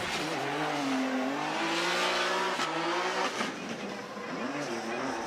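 A Nissan Z drift car at a Formula Drift Japan event revs hard under heavy throttle, its engine note rising and wavering through the run, with a brief dip midway and a roaring, tire-scrubbing wash around it.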